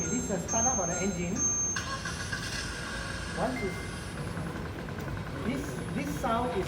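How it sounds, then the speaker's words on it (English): An engine simulator starting up: a broadband motor rumble swells after a couple of seconds and then runs steadily, with people talking over it. "this is the startup of the engine"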